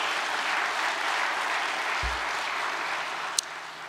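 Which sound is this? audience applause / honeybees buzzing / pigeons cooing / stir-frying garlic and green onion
audience applause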